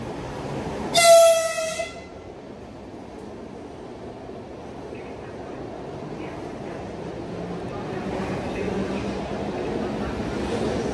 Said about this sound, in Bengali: এটা হচ্ছে ডাবল ডেকের ট্রেন।